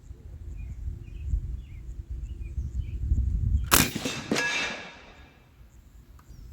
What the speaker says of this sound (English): Last shot with the Lucky 7 airgun ammo.